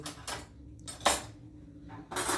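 Dishes are washed by hand in a rural village home in winter, with several bursts of clinking plates and cutlery separated by brief quiet gaps.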